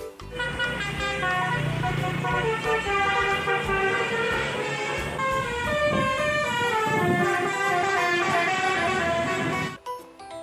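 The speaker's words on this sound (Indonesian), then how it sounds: "ini ada bus telolet besar" A big Indonesian telolet bus horn plays loud, continuous melodic honking tones throughout, bright and sustained over light background noise, cutting off near the end.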